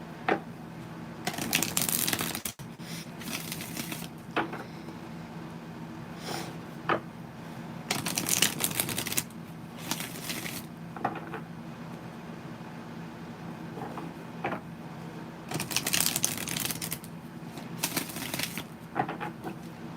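Repeated bursts of tarot cards riffling and flicking together, sticking as they shuffle, close and crisp, over a steady low hum, with pauses between shuffles.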